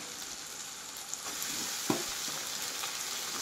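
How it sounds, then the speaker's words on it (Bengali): Mutton pieces added one at a time to a hot frying pan for mixed mutton curry, a constant close sizzle with a couple of brief sharper spits as meat lands. "আমি এক একটা করে এইভাবে মাংসগুলোকে ছাড়িয়ে দেব।"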